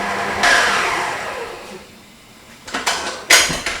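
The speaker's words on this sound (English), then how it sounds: "So I'm just going to scrape the side to make sure all of it is being mixed." A spatula scrapes the side of a mixing bowl of cinnamon toast cupcake batter in a few rough, close scraping strokes, with louder clattering bursts toward the end.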